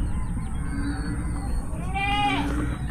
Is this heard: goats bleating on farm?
yes